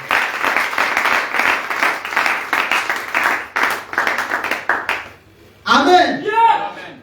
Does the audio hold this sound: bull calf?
no